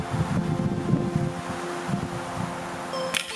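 Strong wind blows outdoors on a December day, buffeting the microphone with continuous low rumbling gusts and rushing noise, close and loud throughout.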